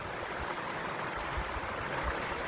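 A mountain waterfall of ice-cold snow melt near Mather Pass on the Pacific Crest Trail, a steady broadband rush of falling water, close and constant, with no talk.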